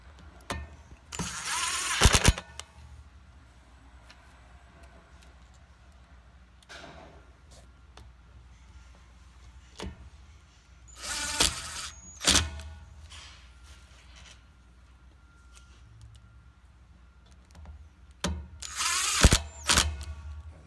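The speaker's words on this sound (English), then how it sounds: "We don't want to over torque with the impact driver." An impact driver drives screws into a planetary gear housing in three short, loud whirring-hammering bursts, separated by long stretches of quiet handling and clinking of parts.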